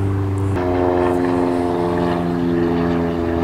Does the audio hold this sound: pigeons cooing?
no